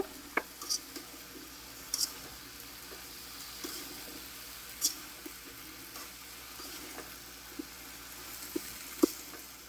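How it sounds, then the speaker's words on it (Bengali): Beans and potatoes are stir-fried in a pan, with a soft, low sizzle under scattered spatula scrapes and taps that sound faint and close. "এই যে সিম আর আলু ভালো করে কষিয়ে নেবো"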